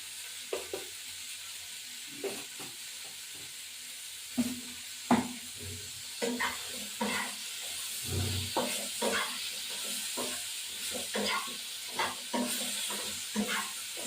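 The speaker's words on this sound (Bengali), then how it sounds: "একটু নাড়া টাড়া দেবো সামান্য একটু লঙ্কার গুঁড়ো দেবো" Rohu fish curry with cauliflower and potato sizzles and hisses steadily in a hot pan while chili powder and ginger go in, with repeated scraping stir strokes cutting through the frying, close and moderately loud with no talk.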